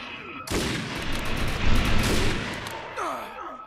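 Sniper gunfire in the video game Defiance: a sudden loud blast followed by rolling, booming rumble and echoing shots, with faint voice-like game sounds near the end.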